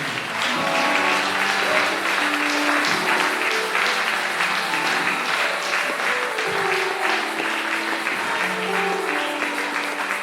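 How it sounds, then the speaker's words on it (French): Congregation applauding at a French-speaking church's New Year night service, steady continuous clapping from a crowd filling the whole stretch, loud and close without letup. "acclame très bien"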